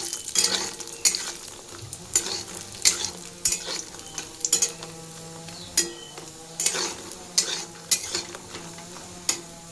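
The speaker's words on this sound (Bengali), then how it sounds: "চলো পুরিগুলোকে ভালো করে ভেজে নিই" Puris fry in hot oil with a constant sizzling bubble, punctuated by repeated sharp clinks and scrapes of a utensil against the pan as they are turned, close and fairly loud, no voices.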